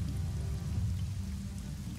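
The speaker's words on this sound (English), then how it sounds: "you experience is the rain hitting you in the face" A rain sound effect during a tabletop fantasy role-playing game, a steady low rumbling patter of rainfall heard close and continuous with no talking.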